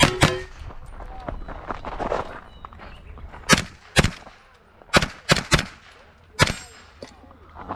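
Sharp, loud gunshots at an Italian national shooting championship in Uboldo, about seven spaced reports cracking out in irregular rhythm over a quiet range with faint handling noises between.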